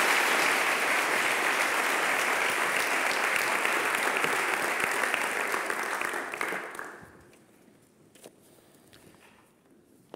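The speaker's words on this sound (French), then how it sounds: "je vous propose de lui accorder un très grand applaudissement" An audience in a lecture hall applauds the speaker Marc-André with sustained, dense clapping for about seven seconds, then it fades to a few scattered claps and room noise.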